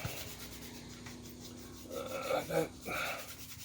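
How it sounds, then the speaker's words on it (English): Sandpaper rubs in a few short, soft strokes against a painted surface, close and quiet, with low background hum. "I noticed I can sand with a bit of sandpaper that off to a point without taking the paint away."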